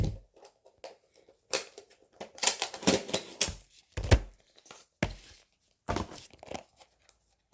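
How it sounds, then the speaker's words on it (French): A paper label being peeled off a plastic diamond painting storage box, giving repeated close crinkling and tearing bursts in short irregular pulls with brief quiet gaps between them. "Il faut que j'enlève l'étiquette là."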